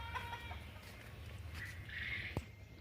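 Chickens on a working commercial livestock farm cluck in short scattered calls at moderate distance, with a brief squawk near the end over a steady low hum of farm machinery or fans.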